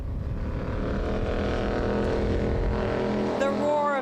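A powerful 1,300-horsepower Scarab speedboat engine roars steadily and loudly throughout, with a rising whine near the end.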